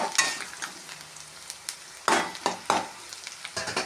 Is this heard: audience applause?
no